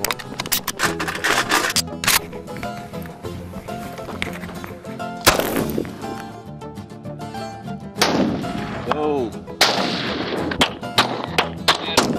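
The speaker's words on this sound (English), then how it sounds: "Got to shoot guns and we shot a lot." Gunfire at a campout from shotguns and rifles including a .30-06 and .22s, with repeated loud bangs and cracks at irregular intervals over a busy, noisy outdoor background.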